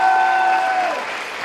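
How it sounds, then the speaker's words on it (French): Audience applause for a Tekken 7 Lucky Chloé contestant at a cosplay contest during a convention, a dense wash of clapping that gradually fades, with a steady tone sounding over the early part. "Lucky Chloé de Tekken 7, on applaudit bien fort."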